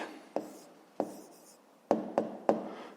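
Pen on paper writing out a math answer by hand, a few soft scratchy strokes and taps spaced irregularly, close and quiet with no talk.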